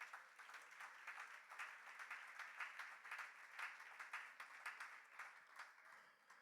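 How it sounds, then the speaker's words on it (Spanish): A congregation at an evangelistic church service claps together in a sustained round, faint and distant, with an uneven, wavering rhythm throughout. "Dele un aplauso al Señor."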